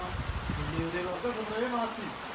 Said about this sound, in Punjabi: ਸਾਰੇ ਛੱਟੇ ਦੇਖਦੇ ਮੀਂਹ ਦੇ ਵਿੱਚ ਧੁੱਪ ਚ